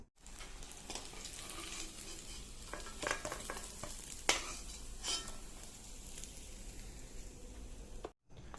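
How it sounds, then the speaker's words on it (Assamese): Pieces of fish seasoned with turmeric and salt fry in oil with a steady sizzle, broken by a few brief scraping stirs and clinks against the pan, with no talk. "মাছটো মই ফ্ৰাই কৰি লম মাছৰ হালধি নিমখ দি দিছো"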